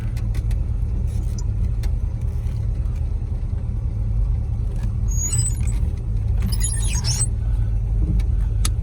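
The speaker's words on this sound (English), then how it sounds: "High idle kick down working." A 1931 Plymouth P4 street rod engine at high idle runs steadily with a low, constant rumble, close by, with a few faint squeaks from the steering column and hisses over it and no talking.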